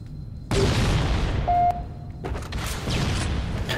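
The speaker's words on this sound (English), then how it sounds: "Yep, rockets." Rocket launcher explosions in the Halo video game, a loud broadband blast rumbling for a couple of seconds, then a second burst close behind, both near and heavy.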